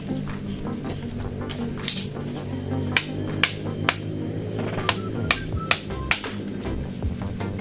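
Sharp hammer strikes ring out at irregular intervals, about ten in all, over a busy background of low rumble and clatter.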